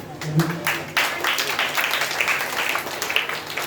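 Students in a classroom applaud a classmate after her speech, a steady patter of clapping from a small group lasting a few seconds, moderately loud with a faint murmur underneath.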